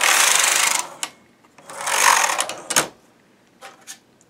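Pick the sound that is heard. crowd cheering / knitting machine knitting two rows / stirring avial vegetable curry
knitting machine knitting two rows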